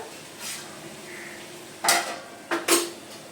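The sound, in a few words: cooking pot of gourd being taken off the stove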